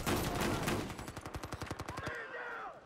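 Rapid automatic gunfire in the shooter game Battlefield 4, a fast string of sharp shots that breaks off near the end of the burst.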